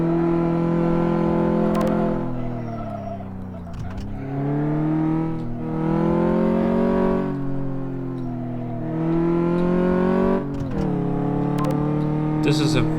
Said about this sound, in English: This is a very nice handling front-wheel drive car.